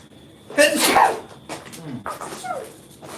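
A single sharp sneeze bursts out, followed by a few short voiced sounds and breaths close by.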